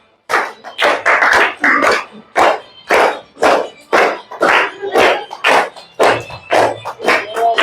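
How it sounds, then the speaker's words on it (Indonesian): A group claps their hands in a steady, rhythmic beat along with a song, close and loud, about a dozen bursts of clapping with voices singing under them. "Sambil tepuk tangan."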